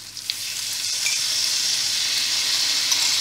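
Soy sauce and sweet soy sauce sizzle in a hot frying pan of tempeh with chickpeas, a steady bright crackle that holds close and fairly loud for the whole stretch, with no voices over it.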